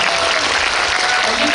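A cinema audience at a live stage talk gives loud, dense applause, sustained throughout without letup.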